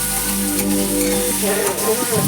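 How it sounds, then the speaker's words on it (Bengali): Meat cooks in a hot pan with a loud, continuous sizzle and frying crackle, and a utensil stirs it with occasional scrapes close by. "আমি এইভাবে মাংস রান্না করি, প্রচুর টেস্টি হয়"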